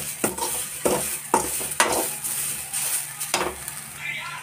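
Grated carrots for carrot halwa sauté in a pan with a soft sizzle, broken by several sharp scraping stirs of a spoon against the metal at irregular intervals, close by.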